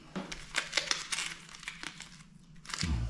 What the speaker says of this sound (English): Just got to peel off the masking tape